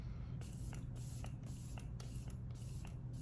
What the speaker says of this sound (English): Let's finish up with my Benefit Professional Super Setter Setting Spray.